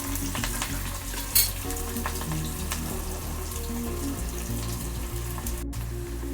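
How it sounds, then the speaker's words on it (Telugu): Onions fry in a spoonful of oil in a pan, browning for a stuffed brinjal masala curry, giving a continuous close sizzle and crackle under soft background music. "ఫ్రై చేద్దాం బాగా బ్రౌన్ కలర్ వచ్చే వరకు"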